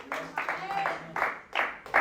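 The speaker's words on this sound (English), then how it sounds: "Clap and thank God." Church congregation clapping in short rhythmic bursts, close and fairly loud, mixed with voices.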